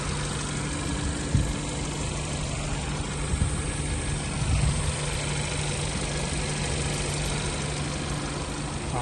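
A Hyundai Tucson's 1.6-litre turbo GDI engine idles steadily at close range, a continuous even hum with a low droning tone and no break.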